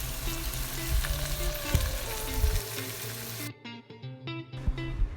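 Saltfish sizzles steadily in a hot pan for an Antiguan breakfast, a loud, close frying hiss that cuts out abruptly partway through and leaves faint, broken crackles.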